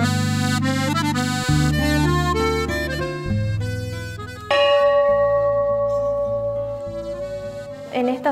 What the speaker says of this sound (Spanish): La campana de estación, que anunciaba, ¿no es cierto?, la llegada del tren.